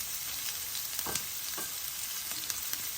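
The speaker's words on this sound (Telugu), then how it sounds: "అలాగే ఇందులో కరివేపాకు వేద్దాం" Freshly picked curry leaves crackle and sizzle in hot oil while Nachu chikkudu kayalu garlic karam is cooked, a dense close spitting hiss broken by sharper pops, with no voices.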